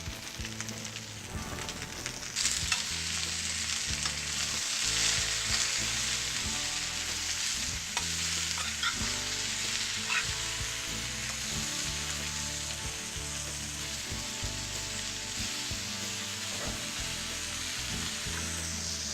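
Vegetables seasoned with Cajun and Italian spices fry in a pan for a Mediterranean veggie sandwich, a steady close sizzle running throughout with occasional louder crackles and stirring noises.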